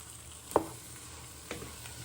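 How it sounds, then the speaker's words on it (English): Spices and chopped tomatoes sizzle faintly in a pan for chicken and spinach saag, with two soft scraping stirs about a second apart over the steady frying hiss. "you want to give that a little bit of stir"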